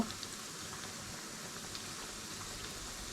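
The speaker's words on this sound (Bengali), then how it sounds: "হালকা গোল্ডেন ব্রাউন করে আমি ভেজে নিব" Malabar spinach pakoras frying in hot oil, a faint, steady crackling hiss with scattered small pops, heard close and alone without talk.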